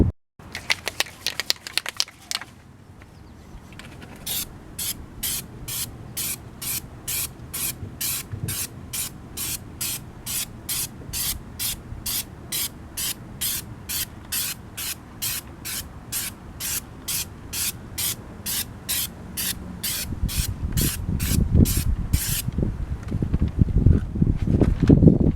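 Duplicolor color-match aerosol paint sprays onto a rusty Chevrolet Cobalt car part in a long run of short, sharp, evenly spaced hissing bursts, close and loud, with rustling handling noise near the end and no talk.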